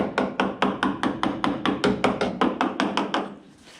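About fifteen evenly spaced dull taps strike the rusty quarter panel of a Mustang packed with Bondo body filler, a quick steady rhythm of close, slightly hollow knocks.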